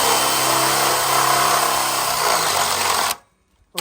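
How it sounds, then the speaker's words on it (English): A loud, steady whine from a heavy-duty drill boring into metal runs continuously for about three seconds, then cuts off abruptly into near silence. "So now I'm going to go ahead and I'm going to drill this."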